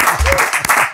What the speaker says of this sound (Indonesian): Tepuk tangan buat Roy Martin.